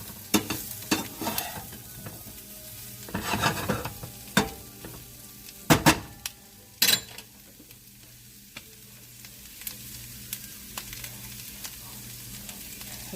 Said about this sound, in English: want to make sure the onion gets mixed down to the bottom